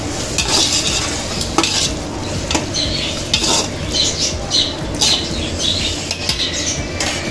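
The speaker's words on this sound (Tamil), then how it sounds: "எல்லாத்தையும் கிண்டிடணும்." A spoon stirs quail biryani masala with squeezed lemon juice in a cooking pot, giving close, repeated scraping and clinking strokes over a light sizzle, with no voices.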